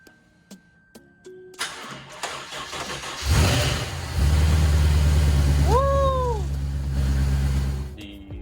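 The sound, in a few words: supercharged Lexus RC F engine starting up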